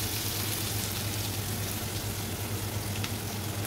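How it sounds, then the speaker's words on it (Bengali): Chopped onion sizzling in hot oil left after frying potatoes, a steady dense crackle and hiss heard close up without talk. "এখানে আমি ওই তেলের মধ্যেই পেঁয়াজ কুচনো দিয়ে দিলাম"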